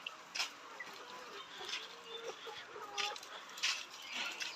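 Layer hens in cages on a poultry farm cluck quietly, a scatter of soft, irregular calls and short squawks heard at a distance with no voices over them.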